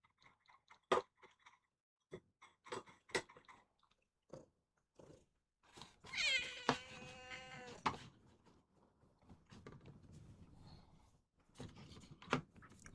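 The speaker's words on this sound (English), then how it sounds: "Cat's checking my work machine." A house cat gives a drawn-out, wavering meow near a desk, set among scattered clicks and small handling noises from mouse modding work.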